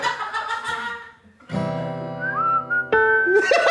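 Someone whistles a short tune in a few separate phrases, the notes sliding and wavering, alongside some tonal accompaniment.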